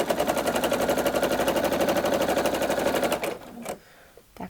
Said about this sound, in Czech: Tak šiju a vidíte, tak to se mi to krásně řasí.